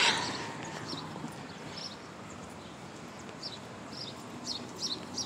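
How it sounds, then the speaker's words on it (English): Birds chirp on a Bronx street in New York City, faint short tweets repeating in the distance over low traffic hum. "So you hear the birds chirping."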